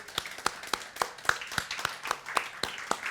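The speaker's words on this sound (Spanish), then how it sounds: "¿Qué tal si le damos un aplauso a todas las mujeres?" Sparse, evenly spaced claps, about eleven sharp hand claps in a steady rhythm, fairly quiet and close, during a church service for Women's Day.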